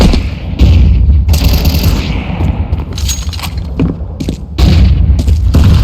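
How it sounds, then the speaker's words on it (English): In a Counter-Strike match, Vitality vs FaZe at the Budapest Major final, heavy booms land among dense bursts of gunfire and clattering impacts, loud and close, with brief drops between volleys. "Throwing grenade"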